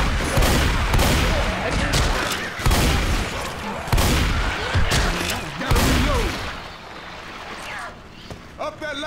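Rapid gunfire from Left 4 Dead 2 crackles in repeated loud bursts and volleys, close and dense, mixed with game effects while players talk over it.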